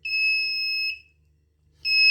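An ENDA temperature controller monitoring a cold storage room gives two loud electronic beeps, one long tone then a short pause and another starting, close and clear over a faint low hum.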